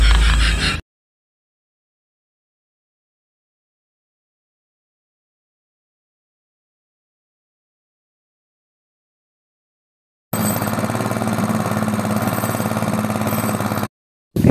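A machine engine in a village setting runs for a few seconds after a long stretch of silence, giving a steady, mid-pitched idling chug up close before it cuts off abruptly.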